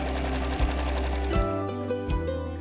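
A home sewing machine runs loud and close with a steady mechanical hum, and a few brief thumps and changes in pitch mark short stops and restarts.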